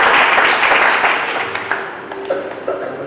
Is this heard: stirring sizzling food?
no